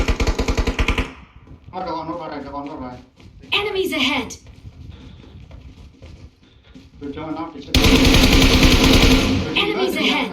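Video game gunfire comes in loud rapid bursts at the start and again near the end, with people talking between and over the shots.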